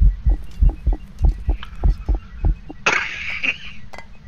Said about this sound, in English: Very, very loud heartbeat.